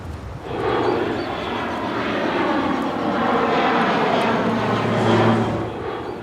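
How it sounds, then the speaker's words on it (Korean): A state firefighting airplane flies overhead above the burning Pantanal wetlands, its engine drone swelling and holding loud and close for several seconds. "화재 신고를 받으면 주 정부 소속의 화재 진압 비행기가 날아와 방화제를 뿌립니다"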